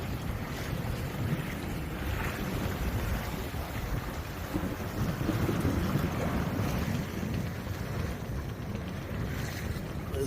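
A Catalina 27 sailboat under sail on Long Island Sound near City Island, with steady wind buffeting the microphone and water rushing and lapping against the hull in a continuous, fairly loud wash.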